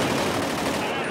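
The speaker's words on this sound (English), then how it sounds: "I'm taking heavy fire" Dense, loud automatic gunfire from the GTA 5 video game, a continuous burst of overlapping shots filling the whole moment with no pause.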